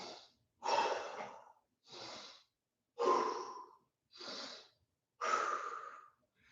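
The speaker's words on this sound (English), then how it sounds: "Deep breath." Deep breathing after a set of a home leg workout, six slow close breaths alternating in and out at a steady rhythm, fairly quiet and alone with silence between.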